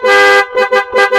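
A loud aftermarket PIAA car horn sounds up close, giving one long blast followed by three quick honks in a bright, brassy dual tone, with no talking.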